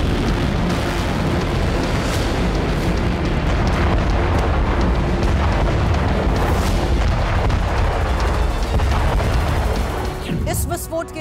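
A gas pipeline in Iran blows up, a loud, sustained roaring blast with deep rumbling that fills the whole stretch, tapering slightly at the very end.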